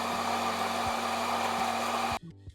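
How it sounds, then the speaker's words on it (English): Electric coffee grinder for an espresso machine grinding beans at a finer setting, a loud, steady close whirring drone that cuts off abruptly near the end, leaving a faint hum and a small clunk. "I change grind size from 18 to 16 and start the grinding process"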